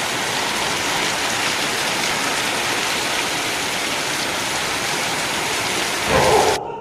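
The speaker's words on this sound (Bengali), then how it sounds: "যেমন ঝড় তেমন বৃষ্টি" Heavy storm rain roars steadily nearby as a dense, constant wash, swelling briefly with a low rumble near the end before cutting off.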